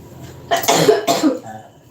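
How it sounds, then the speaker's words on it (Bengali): Two close, harsh coughs in quick succession, alone with a quiet room behind them. "একটু কাশবো কিন্তু হ্যাঁ এখনো কাশি আছে আমার"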